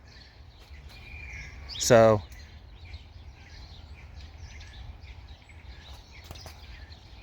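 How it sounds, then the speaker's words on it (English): A single short bird call rings out once, fairly close, over a faint outdoor background hum on an Oklahoma property, with a brief spoken word nearby. "So there's a bird or something down there."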